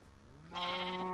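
A sheep in the Minecraft video game gives one fairly loud, wavering bleat that swells up partway through and holds to the end, with no talking over it.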